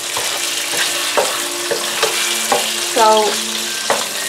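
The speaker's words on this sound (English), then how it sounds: "when you do stir fry, it is very important that you keep your wok very hot" Flat rice noodles stir-fried in a hot wok sizzle loudly and close, with rhythmic clanks and scrapes of the spatula about every half second; one short spoken word opens the sound.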